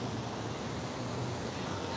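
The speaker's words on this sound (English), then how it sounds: "It's a very windy day." Strong gusts blow on a very windy day in Tbilisi, a steady broadband roar buffeting the microphone throughout, fairly quiet overall and with no voices.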